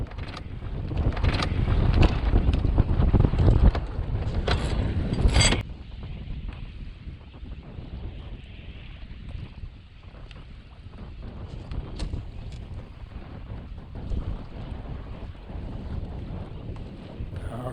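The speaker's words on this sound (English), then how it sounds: "we're going to have to throw one more tack in" A sailboat coming about on a tack in the wind. Heavy wind rumble and rushing water fill the first seconds, mixed with rattling rigging and creaking pulley clicks. The wind then eases to a steadier, softer rush with occasional mechanical knocks.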